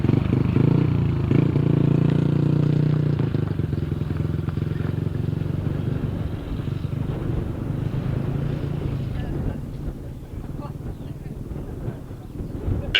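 A 500cc grasstrack sidecar motorcycle rumbles loudly nearby at a race meeting, its engine drone steady and then fading as it leaves the track, with wind buffeting and a public-address voice faintly beneath.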